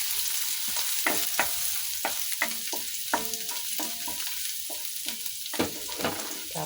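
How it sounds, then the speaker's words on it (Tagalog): Chopped garlic sautéing in hot oil for Filipino adobong sitaw, a continuous close sizzle broken by frequent sharp scraping and tapping of a spatula stirring in the pan, no talking. "igigisa na natin yung ating bawang."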